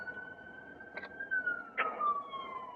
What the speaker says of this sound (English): That's ambulance.